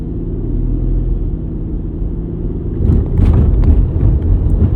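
Car driving along a city street, a steady low road rumble and engine drone that swells and roughens partway through as the vehicle moves on, heard from inside without talk.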